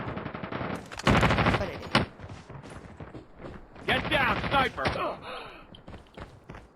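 Rapid bursts of automatic gunfire and sniper shots from Call of Duty Mobile gameplay, loud and rattling in clusters, with a player's voice talking over parts of it.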